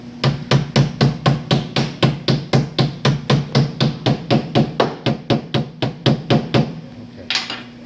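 A hammer strikes a car's damaged quarter panel during collision repair, roughly two dozen sharp metallic taps in a quick, steady rhythm, close and loud, ending with a brief pause.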